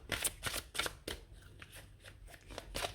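Oracle cards shuffled for an angel card draw give a run of quick riffling, papery flutters with short pauses, close and fairly soft, with no talk over them.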